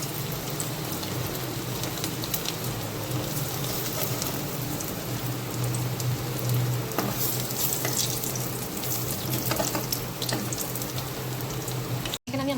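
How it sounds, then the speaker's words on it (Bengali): Fish fries in hot oil over a low flame, giving a steady, close crackling sizzle with dense popping that continues evenly throughout, with no talking. "তেল আমার গরম হয়ে গেছে, আস্তে করে মাছটা ছেড়ে দিই। হালকা ফ্লেমে এটা ভাজতে হবে।"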